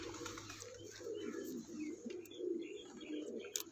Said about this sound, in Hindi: ये जी दिलजान कबूतर है